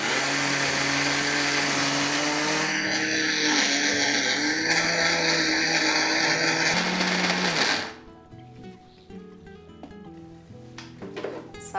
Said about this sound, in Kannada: ಇದು ಮಿಕ್ಸಿ ಮಾಡಬೇಕು